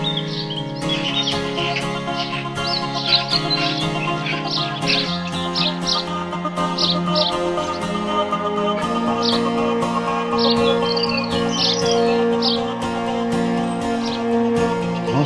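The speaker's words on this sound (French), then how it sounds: "On entend le gazouillis des oiseaux." Morning birdsong on the Camino Francès between Vega de Valcarce and Pineiro, many bright chirps and trills scattered throughout, fairly close, over a steady hum of other outdoor sound.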